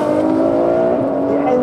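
A supercar engine, heard alongside a Ferrari F12, Lamborghini Aventador and Aston Martin Vanquish, pulls hard with a loud, steady, dense harmonic roar held close and continuous throughout.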